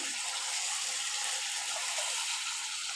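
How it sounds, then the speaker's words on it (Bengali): Water used to rinse a mixer jar, poured into a pan while a potato, pointed gourd and paneer curry is cooking: a short, steady gushing splash of water, close and continuous, with no talking. "মিক্সি বাটিতে জল দিয়ে বাটিটা ধুয়ে সে জলটা দিয়ে দিলাম"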